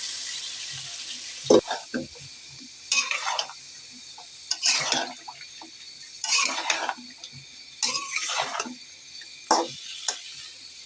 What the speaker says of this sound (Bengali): তো আমার লাউটা একটু কষানো হোক,